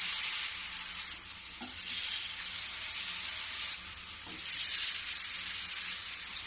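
Spoonfuls of a mixture dropped into hot oil on a medium-low flame, producing a steady close sizzle that swells in waves as each new portion hits the oil.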